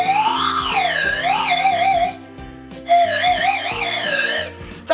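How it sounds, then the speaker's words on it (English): A homemade slide whistle made from a glue stick and duct tape plays two long wavering glides, the pitch swooping up and down loud and close, with a short pause between them. "Now you got yourself a slide whistle."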